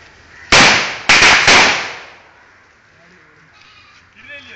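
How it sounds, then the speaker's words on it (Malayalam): A hand-held firecracker goes off in three sharp, loud cracks in quick succession, each echoing briefly before fading into quiet, with faint voices afterward. "കൈ പടക്കം പൊട്ടിയതാ"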